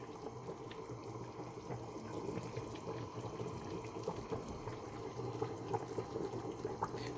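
Dumplings dropped one by one into simmering vegetable broth for pot-au-feu, heard as a steady bubbling, watery wash with small splashes scattered throughout, moderately quiet and without speech.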